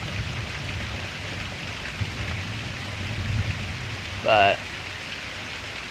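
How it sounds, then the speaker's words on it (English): Steady rain from an early morning thunderstorm pours down outside, a continuous dense hiss with a low rumbling undertone, joined briefly by a short rising tonal chirp near the end and a faint voice. "once the storm wanes a bit"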